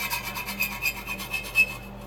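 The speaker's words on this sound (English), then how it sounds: "So I can take out my little file. I can just touch this up." A small hand file rasps over a sharp steel edge on a cowboy fire stand, giving short repeated scraping strokes in a steady rhythm, close and fairly quiet.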